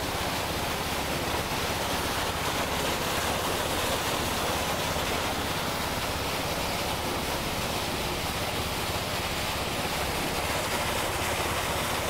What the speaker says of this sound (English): Pumping the water in.